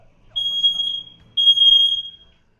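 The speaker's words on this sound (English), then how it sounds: "The fire alarm kept going off." A smoke alarm going off indoors, two loud, shrill electronic beeps about a second apart, each held for most of a second, close and sharp over faint room noise.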